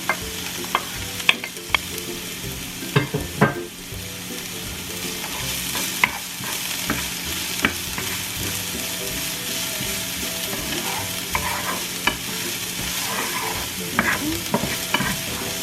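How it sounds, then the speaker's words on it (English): Ginger fries in a pan for Filipino ginataan lanka, a continuous sizzle with frequent spoon or spatula clicks and scrapes from stirring, close and fairly loud, with no talking. "Then you're going to add your ginger."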